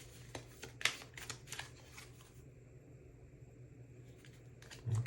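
Tarot cards are shuffled by hand in a few soft, quick riffling bursts close by, followed by quiet handling and a low background hum.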